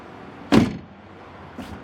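An Aston Martin car door shuts with a solid thud, followed a second later by a softer second knock, both close by against a quiet background.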